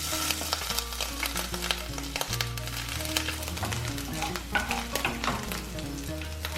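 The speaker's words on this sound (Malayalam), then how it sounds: "ആദ്യം നമുക്ക് ചതച്ചെടുത്തിരിക്കുന്ന ഇഞ്ചിയും വെളുത്തുള്ളിയും ഒന്ന് വഴറ്റിയെടുക്കാം." Crushed ginger and garlic sautéing in hot coconut oil, a continuous close sizzle broken by a spatula stirring and scraping the pan, with low background music.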